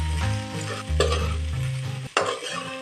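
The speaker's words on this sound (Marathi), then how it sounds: "मग सगळा भात मिक्स करून घेऊन परत परतून घेतो" Leftover rice stir-fried in a pan, a loud close sizzle under a tonal hum, with scraping stir strokes and a sharp clatter near the end.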